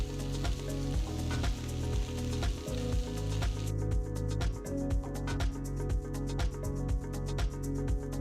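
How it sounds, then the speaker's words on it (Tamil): Boiled potato pieces sauté in a pan over a high flame, a continuous close sizzle with crackling spatter and repeated scraping strokes of a spoon, no voice heard. "ஸ்டோவை ஹை ஃப்ளேம்லேயே வச்சு ஒரு 5 நிமிஷம் நல்லா வதக்கி எடுத்துக்கலாம்."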